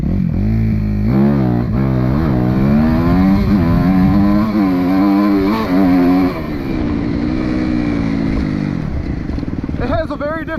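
A Suzuki RMZ250 motocross motorcycle revs on a racetrack, its engine climbing and falling through repeated throttle surges, loud and near, then settling to a rougher steady drone as a voice talks over it.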